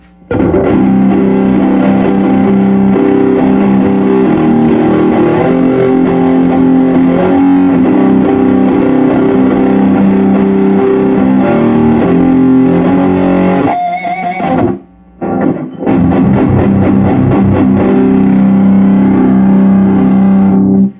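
Heavily distorted electric guitar through a Boss Metal Zone distortion pedal plays loud sustained chords and riffs, with a brief pause before fast, choppy strumming resumes.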